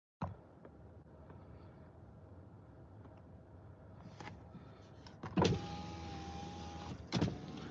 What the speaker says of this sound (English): I'm gonna put the window down.